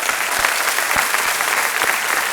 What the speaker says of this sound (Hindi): तालियों के साथ एक बार फिर